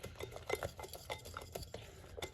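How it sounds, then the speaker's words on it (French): A utensil stirs three ingredients together in a bowl, one of them a packet of vanilla sugar, for orange besbousa cake bites. It makes a close, quiet run of scraping and clinking strokes with no talk. "On mélange bien de façon à ce que les trois ingrédients se mélangent bien."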